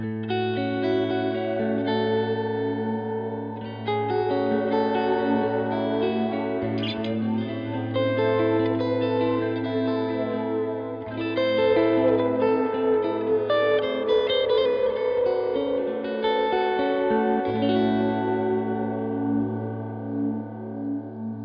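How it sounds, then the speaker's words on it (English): Sustained electric guitar chords through a T2 reverb pedal set very wet, drenched in heavy reverb, notes blooming and washing into each other with long, shimmering tails. "I'm going to run this pedal pretty wet too"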